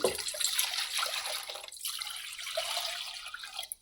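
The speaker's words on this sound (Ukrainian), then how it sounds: "Зараз кожну ємність я налью однакову кількість води." Water poured into a series of cooking pots, one after another, before they are heated on electric and induction stoves: a bright, splashing trickle close up, with a brief break midway and a moderate steady level.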